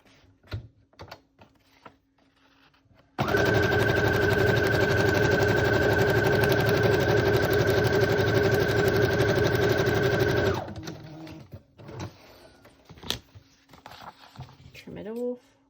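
A sewing machine stitches mushroom trim onto a junk journal page, its steady motor whirring loudly for about seven seconds after a voice speaks, then stopping as faint handling clicks and rustles follow.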